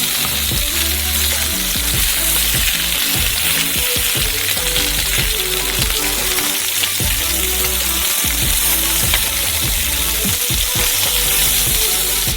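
Meat, ribs by mention, searing in a hot frying pan as a crust forms on both sides: a loud, continuous close sizzle with crackling and occasional stirring or shifting in the pan, no voices.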